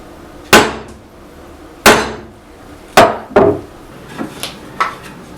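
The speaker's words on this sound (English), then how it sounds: "And then just tapping it with a hammer." A hammer taps a bolt held in a 3/4 inch wrench to mark hole spacing on a mobile tool base, giving three sharp metallic strikes followed by a quicker one and several lighter taps, close and clear.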